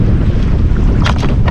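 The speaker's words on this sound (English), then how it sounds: "I don't know if you can hear that wind, and look at the waves" Wind buffets the microphone on a fishing boat at sea off Victor Harbor, a loud low roar with waves slapping and hissing near the hull, no voices.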